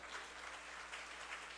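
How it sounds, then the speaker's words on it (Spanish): Congregation applauding for the Lord at a Spanish-language church service, a steady, dense wash of clapping that holds at an even level throughout, somewhat distant and soft. "dale un fuerte aplauso al Señor"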